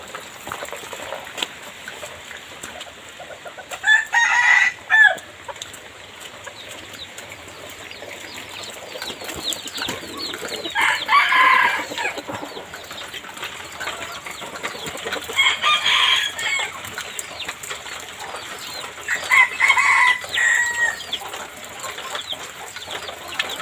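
A rooster crows several times at intervals, fairly distant, over a steady patter of rain.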